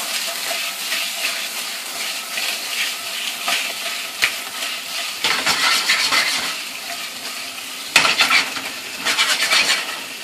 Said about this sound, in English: The potatoes are cooking with the rosemary and the garlic.